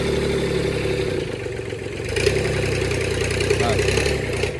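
A vehicle engine runs in a mechanic's workshop, a steady mid-pitched drone with a slight rise in intensity partway through, close and continuous, while people talk over it.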